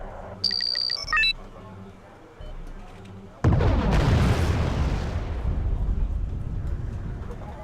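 A heavy artillery blast in Wargame: AirLand Battle bursts in loudly midway after brief electronic beeps and quiet ambience, then rumbles and decays slowly over several seconds.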